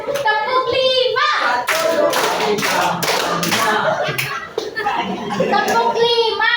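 Children clap their hands in a counting clap game, with steady loud rounds of clapping under an adult calling out numbered clap counts, pausing briefly between rounds.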